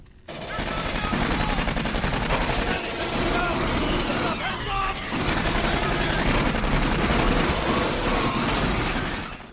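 Sentry turret in the Aliens: Colonial Marines game fires continuous rapid bursts of automatic gunfire, loud and dense for nearly ten seconds with one brief lull, with a voice mixed in under the shooting.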